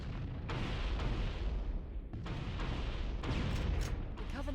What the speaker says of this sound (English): The Covenant are destroying the life pods.